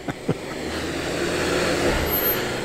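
The engine of a car stuck on a snowy slope hums steadily as it struggles for grip, loud and continuous throughout, with a couple of brief knocks at the start and no voices.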